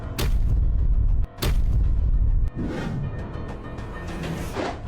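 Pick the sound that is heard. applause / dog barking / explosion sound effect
explosion sound effect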